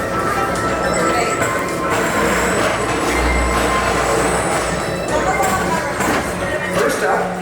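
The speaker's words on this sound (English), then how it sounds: "your express train keeps on rolling through the future" Magic Kingdom PeopleMover express train rolling along its elevated track, a close, continuous rumbling hum with a thin high wheel squeal drifting in and out and busy park ambience underneath.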